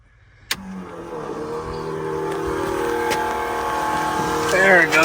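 A Holley Black electric fuel pump in an LS-swapped Chevy S10 switching on with a click, then settling into a steady whining hum that rises slightly in pitch near the end, heard close up.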